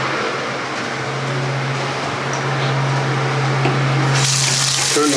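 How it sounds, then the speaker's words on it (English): Steady rush of water from a tap under a sink, continuous and fairly loud at close range, with a low motor hum beneath and a brief clatter near the end; no talk. "Turn the water back on"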